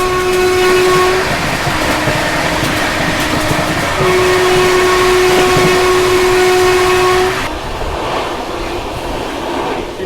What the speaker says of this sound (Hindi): किसी स्पेशल ट्रेन को अभी जस्ट हम लोगों ने ओवरटेक किया है।